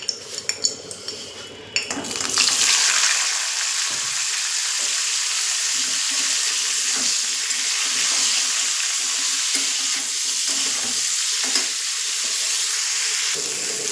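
Cauliflower frying in a pan is stirred, with a few metal utensil clinks and scrapes at first, then a steady loud sizzle and crackle continuing under occasional scraping.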